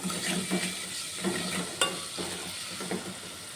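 Ginger and garlic fry in a pan, giving a steady close sizzle with a few soft stirring scrapes throughout.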